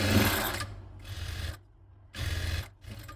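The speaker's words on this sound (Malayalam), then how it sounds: "എന്നിട്ട് പിന്നെ ഇതുപോലെ ഒന്ന് ഒരു 1/4 ഇഞ്ചിൽ ഇങ്ങനെ മടക്കി കൊടുക്കുക. എന്നിട്ട് അതൊന്ന് തയ്ച്ചെടുക്കുക." A sewing machine runs in short, close bursts with brief pauses between them while stitching a quarter-inch folded hem on a baby frock. No one talks.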